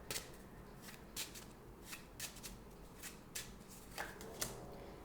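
A deck of tarot and oracle cards is shuffled by hand in soft, quiet riffling bursts that repeat every half second or so, close and faint, with no talking.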